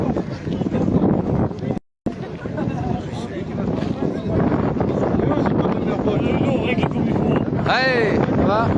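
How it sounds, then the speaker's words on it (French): Strong wind buffets the microphone outdoors at Saint-Bauzély in the Gard, a steady loud roar with one brief dropout, while people talk over it. "C'est quoi ce vent?"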